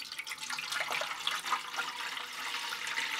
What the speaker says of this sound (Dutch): Dan is het nu tijd om hier gewoon wat water in te stoppen